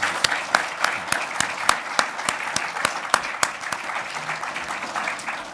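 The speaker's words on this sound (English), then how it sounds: "give our panelists, Don Puglisi, Paul Brewer, and Liz Ann Saunders, a big round of applause of appreciation for their" An audience at an investment panel event gives moderate applause for the panelists, with sharp individual claps standing out over a softer, steady patter.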